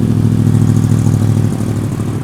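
A Yamaha R1 60th Anniversary sport motorcycle engine starts and idles loudly and steadily up close, a deep throbbing rumble with no talking.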